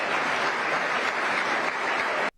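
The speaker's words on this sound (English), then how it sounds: "All this incessant clapping" Audience clapping at a political speech, a loud, continuous wall of applause from a large crowd that cuts off abruptly at the end.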